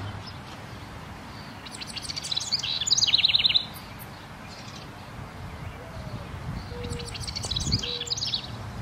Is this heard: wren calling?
yes